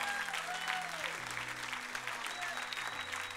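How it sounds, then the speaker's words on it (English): Church congregation clapping hands together during a service, a sustained even patter of applause with a faint voice and soft tones underneath. "Come on, clap your hands right now."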